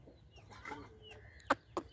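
A hen, of the type called a nemali petta, clucking quietly nearby, with two short, soft clucks close together near the end over faint background noise.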